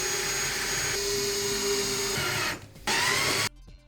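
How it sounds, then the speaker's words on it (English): A power drill bores holes for camera rig bolts, running loud and steady for a few seconds, then cutting out briefly before a final short burst. "I'm going to drill those out, but only down one side"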